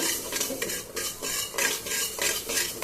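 Dry-roasting black cumin (kalonji) being stirred in a pan on low heat: steady scraping strokes of a spoon against the metal in a repeated rhythm, close and fairly loud, with a faint crackle beneath and no voices.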